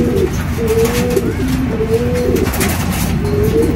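Pigeons coo in a low, repeated rolling pattern, several phrases over a few seconds, fairly close and loud against a steady background hum.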